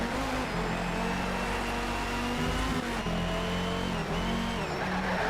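Race car engine in Need for Speed Shift 2 roaring steadily at high revs throughout, with pitch rising and dipping through gear changes and faint tire scrubbing, loud and close with no talking.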